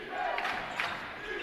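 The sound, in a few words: basketball crowd cheering, on their feet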